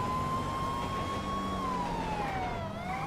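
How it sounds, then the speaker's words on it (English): A police car siren wails continuously at a steady loud level, its pitch gliding slowly downward and back up, with no voices. "turn on your lights and siren, and then pull over the vehicle in a safe location"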